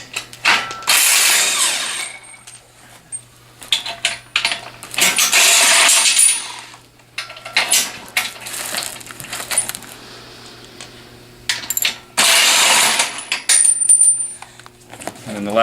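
Metallic ratcheting bursts come from a 3/4 inch wrench backing bolts out of the sides of a Hurricane unit being disassembled, loud and close, in several long cranking runs separated by brief clinks and pauses.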